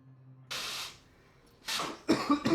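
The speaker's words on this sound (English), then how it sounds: "I need to blow my nose." Someone nearby blows their nose in two or three short, breathy bursts separated by brief pauses.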